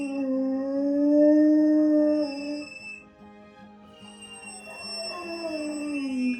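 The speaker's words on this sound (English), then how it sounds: "You can see how badly she would howl when we left the house." A rescue dog, Luna, howls with separation anxiety, a long sustained wavering cry that dips briefly and then rises again into another drawn-out howl, close and loud with no voices.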